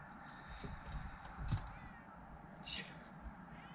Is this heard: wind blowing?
no